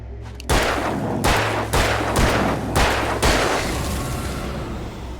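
Five or six loud gunshots from Alan Wake on PC, fired in a steady, evenly spaced sequence with a short pause between each, each blast ringing out over a low rumbling background before the scene settles into lingering noise.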